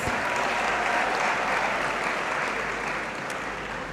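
Sustained, dense applause from a large audience filling a great hall at a university congregation ceremony, loud and steady throughout with a slight fade toward the end.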